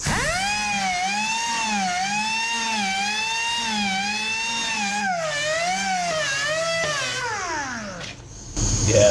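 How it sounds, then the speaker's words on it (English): An 80 grit disc deburring sheet metal edges gives a steady, loud grinding whine that wavers up and down in pitch as it bears on the metal, then drops away near the end as the tool spins down. "I'm gonna go ahead and deburr the edges. This is an 80 grit disc"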